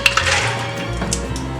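Ice cubes clatter into a plastic blender cup set on the base, a quick burst of hard clinks and rattles up close that settles within about a second.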